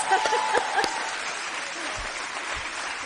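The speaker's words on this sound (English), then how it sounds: "let's give them a round of applause" Audience applause at a Women for Biden campaign rally in Wisconsin, a steady broadband patter of clapping sustained through the clip, with some voice traces early on.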